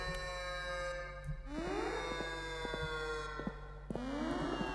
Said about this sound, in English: Well, that is weird, that siren.